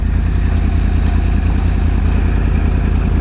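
A Yamaha YZF R1 1000cc superbike idles close by, a steady, even low engine throb with a fine mechanical clatter running unbroken throughout.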